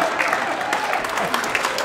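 A comedy club audience breaks into steady applause during a stand-up set, a brief, even wash of clapping filling the room at moderate loudness.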